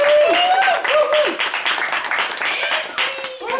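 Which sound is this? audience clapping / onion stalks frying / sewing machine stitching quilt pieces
audience clapping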